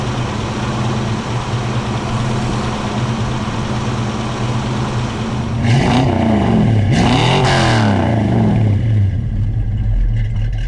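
A 1965 Ford Falcon Futura coupe with a 289 V8 (4.7 liter), Holley 4-barrel 600 CFM carburetor, shorty headers and stainless exhaust idles with a steady low rumble, then blips the throttle in two sharp revs that fall back to idle.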